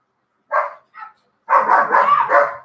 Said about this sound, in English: Could you stop them barking, please?